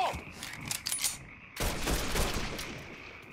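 Dense gunfire in Mafia III on PS5 erupts in rapid bursts, with a sustained loud volley in the second half.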